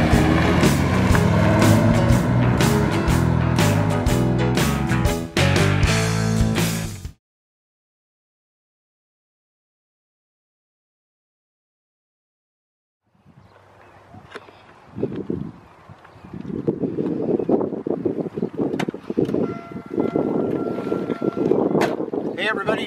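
A 1995 Jaguar XJS convertible on the road, with a loud stretch of driving and wind rush, then a few seconds of silence, then the engine and road noise building again from quiet to steady.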